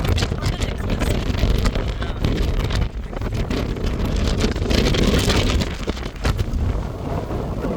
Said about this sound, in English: This is the windiest spot we've found so far.